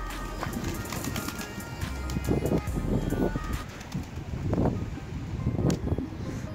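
Pigeons coo in soft, low bursts at close range, with rustling and flutters of wings mixed into a steady background.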